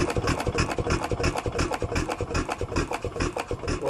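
An old engine drives a belt-driven mill at a living-history demonstration, a busy steady run of rapid mechanical rasping and knocking, fairly loud and close with no talk.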